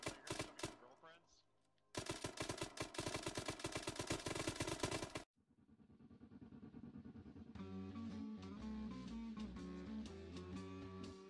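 Dense automatic gunfire and rapid shots from the video game Arma III during a co-op horror session, loud bursts that give way to a sustained rattle over droning music, with a voice faintly underneath.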